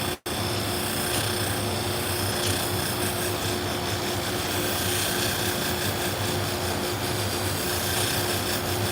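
A shear sharpening machine works on salon shears, giving a steady, loud grinding rasp that runs without pause for the whole stretch after a brief dip at the start.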